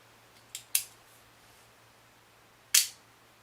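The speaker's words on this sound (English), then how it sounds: "Let me engage the shutter for you." Smena 2 camera shutter fired at 1/50 second, heard as a quiet cocking click, then a sharp snap, and after a pause one more crisp mechanical snap, close in a quiet room with a faint low hum.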